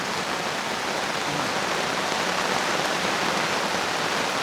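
Heavy rain falling at a mountain campsite near Baguio, heard as a loud, dense, unbroken hiss of downpour close by.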